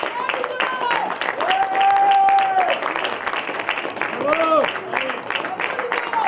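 Crowd applause at an amateur football match as a player is substituted off, scattered clapping under a public-address announcer's voice and other tonal sounds.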